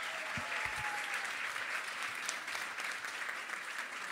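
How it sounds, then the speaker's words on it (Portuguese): Audience applause at a comedy hypnosis show in a comedy bar, steady and fairly faint, as a continuous wash of clapping from a small crowd with a few low thumps early on. "Uma salva de palmas para os nossos astros."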